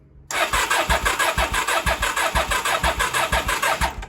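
A 1983 Honda Shadow VT motorcycle engine fires up abruptly and settles into a loud, close, lumpy idle with a steady pulsing beat, with no voices.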